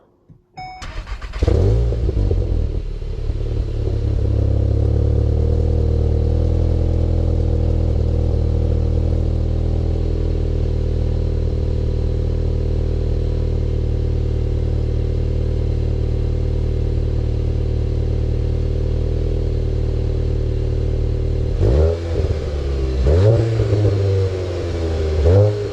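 A VW Golf 7.5 GTI with a 245 hp engine starts with a sharp burst, then settles into a loud, steady idle that runs close and continuous, with a couple of short revs near the end.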